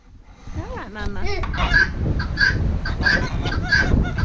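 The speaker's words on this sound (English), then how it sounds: "The geese meeting the ducks face to face for the first time." Geese honk repeatedly on a family farm, several loud, evenly spaced calls over a noisy outdoor background, with a person's voice briefly at the start.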